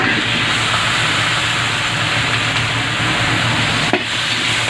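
Chicken pieces fry in a little cooking oil with ginger for chicken sotanghon, giving a constant close sizzle with one brief utensil clack near the end, and no talking.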